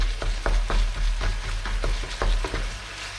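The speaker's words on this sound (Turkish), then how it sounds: "Ve güzelce karıştırıyoruz yine" Pasta with ground meat and stock sizzles and fries in a pan while a spoon stirs it in repeated scraping strokes, a steady close hiss under the rhythmic clatter.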